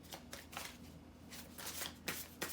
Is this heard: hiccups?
no